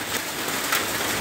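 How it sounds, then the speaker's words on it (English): A rain storm pours down outdoors with a steady, broad, fairly loud rushing hiss. There is no talking over it. "as you can see, there's a storm a-brewing."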